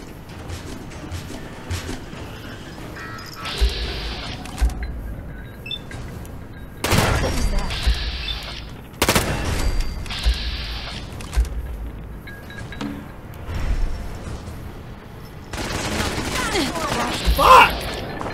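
Turret gunfire in Fallout 4's Automatron add-on, heard as several loud bursts of game shooting and booms at irregular intervals over a busy background, with a voice speaking between them.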